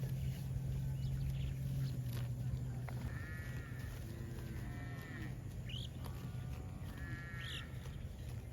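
A baby cow calls in the countryside with soft, short moos, several separate cries spread across a steady rural background hum, moderately near, with no talk.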